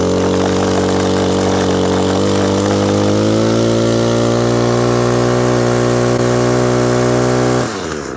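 An Echo SRM 225 string trimmer's small two-stroke engine revs loud and close, holding a steady high buzz that rises slightly before easing off at the end.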